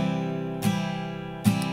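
An acoustic-style guitar is strummed with pick downstrokes, two distinct strums about a second apart over the ringing, sustained chord.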